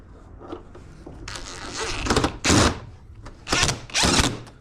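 Screws being driven back into the hinges of a door as it is reversed to open the other way, heard as a series of close, loud whirring drill bursts of growing length, separated by short pauses.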